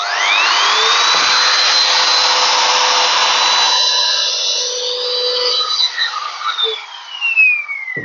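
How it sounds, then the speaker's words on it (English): A Trend router trimmer cuts a profile along the edge of an 18mm board, giving a steady high whine that holds for a few seconds and then turns uneven and fades as the cut ends. "So I've got the cutter set up and the trends trimmer."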